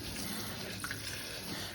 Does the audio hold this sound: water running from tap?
yes